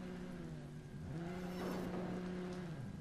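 A car reversing in a video game mod: a low, moderate engine whir whose pitch shifts partway through, steady and fairly quiet, with no voices.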